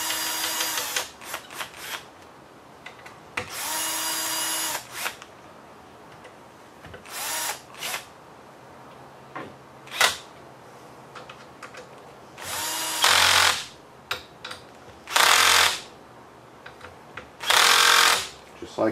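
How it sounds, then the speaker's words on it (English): A power drill tightens four screws into the bottom plate of an HPI Baja RC car being converted to electric, in several short, loud whirring bursts of one to two seconds, with someone talking in the pauses. "I'm going to go ahead and tighten them up"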